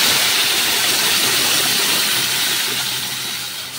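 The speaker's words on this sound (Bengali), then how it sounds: "এবারে কিন্তু আমি এতে সিদ্ধ করে রাখা ডালটা দিয়ে দেবো" Boiled urad dal hits a hot pan of fried spices with a loud, continuous sizzling hiss close up that slowly fades toward the end.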